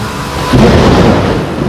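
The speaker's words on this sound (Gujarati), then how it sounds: "કેવા કડાકા" Thunder rumbles during a heavy downpour in flooded Surat, a loud low boom swelling midway and rolling on over the steady roar of rain.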